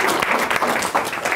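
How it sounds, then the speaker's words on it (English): Brief burst of dense audience applause after a talk about helping young people succeed, steady close clapping from a room full of listeners. "You can applaud at that."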